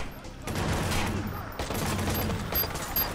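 Sustained Watch Dogs gunfire, rapid bursts of shots in a continuous volley with a brief lull partway through, fairly close and loud over the game's background mix.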